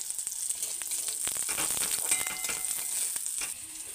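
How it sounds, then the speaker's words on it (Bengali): Garlic frying in hot oil for a cauliflower-leaf mash, a steady close sizzle with light crackling and occasional stirring scrapes throughout. "রসুনটা দেখো আমার ভাজা হয়ে গেছে"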